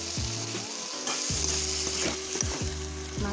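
Taro stems sizzling in a covered pan while being stirred, a constant hiss of frying with repeated scraping strokes of the spoon at a steady pace, close up with no talking.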